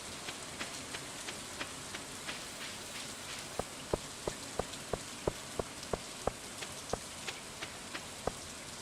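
Steady rainfall in the farming game Stardew Valley, a soft continuous hiss with a regular series of crisp droplet taps growing more distinct midway, no voices present.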